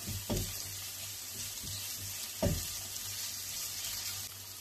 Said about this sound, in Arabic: ها هو البصله ديالتنا تقلات